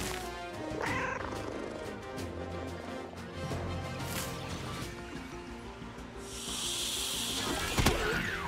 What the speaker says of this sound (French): J'aime bien les cris de Becky quand elle appelle ses animaux.